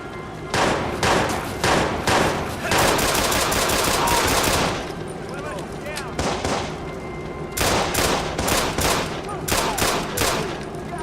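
Rapid automatic gunfire during an on-foot chase in the video game Watch Dogs, with loud sustained bursts and single shots recurring across the clip, close and dominant.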